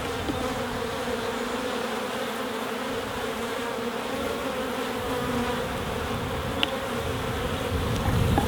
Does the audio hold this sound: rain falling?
no